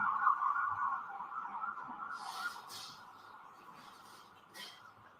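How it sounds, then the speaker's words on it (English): A wailing emergency siren passes at a distance outside a courtroom during a trial, loud at first and steadily fading as it moves away, with faint background noise and no talk. "wait until the sirens pass"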